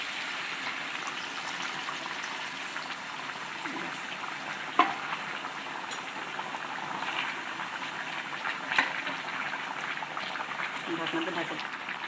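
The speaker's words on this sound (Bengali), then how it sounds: "এবার দেখুন সেই কষানো শেষ এখন দিলাম ঝোল" Broth poured into beef and pointed gourd curry frying in a pan gives a steady, continuous sizzle and bubbling, close and even throughout, with a couple of brief clinks.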